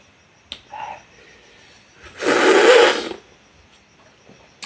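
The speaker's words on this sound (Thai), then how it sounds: "อ่าสดน้ำแบบเสียงดังๆนะครับผม" A single loud, noisy slurp of fish-noodle soup broth, made from Taro instant fish noodles, lasting about a second between quieter small sounds.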